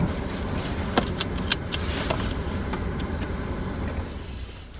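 Steady low rumble of a car interior while driving on an early morning commute, with a few faint clicks and jingles of keys over the road noise.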